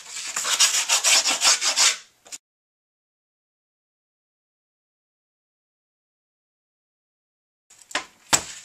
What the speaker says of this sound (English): This just gives you a guideline to cut and it gets some of the grit off so it's easier to cut.